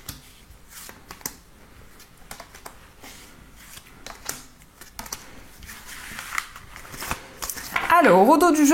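A deck of oracle cards being shuffled and drawn, close crisp riffles and flicks in irregular bursts, ending with someone speaking.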